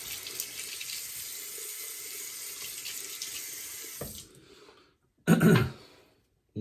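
A tap runs steadily for about four seconds while shaving lather is worked up with Barrister and Mann Beaudelaire soap and a Semogue 730HD brush. The water then cuts off, and a short, louder splash or knock follows.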